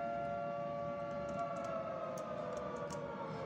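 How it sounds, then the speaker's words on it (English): A steady civil-defense style siren drones from a fire station in a Minecraft city world, a sustained wailing tone with faint clicks over it and no speech. "there's a siren right here. Another one's actually on."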